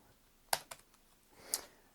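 Typing on a laptop keyboard with a homemade wrist rest gives a few sharp, quiet clicks close by, with three distinct key taps spread over a couple of seconds in a quiet room.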